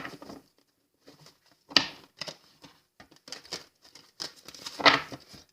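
Oracle cards get shuffled by hand during a pick-a-pile reading, producing close, irregular papery riffles and flicks in short bursts with quiet gaps between them.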